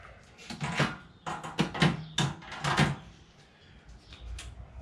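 An Ooni Pro pizza oven door is set in place and closed, producing a series of clattering metal knocks and scrapes in quick bursts, close by, with no talking.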